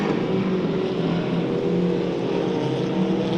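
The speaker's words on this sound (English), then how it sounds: "Someone's got a major exhaust leak or something." A race car with a major exhaust leak at a dirt oval raceway heat race, its engine a loud, continuous, rasping drone that rises and falls slightly as it circles nearby.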